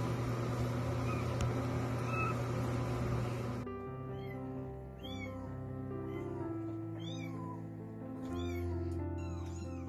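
An underweight kitten meows repeatedly in short, high, rising cries, wanting to get out; a dense rumbling background cuts off partway and the meows continue close and clear.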